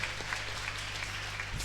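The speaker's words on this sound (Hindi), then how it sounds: "ताली बजाओ, बहुत बढ़िया बोले" An audience at a religious katha claps together in a dense, fairly quiet burst of applause that carries steadily to the end, with a faint low hum underneath.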